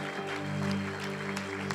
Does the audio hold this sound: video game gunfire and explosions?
no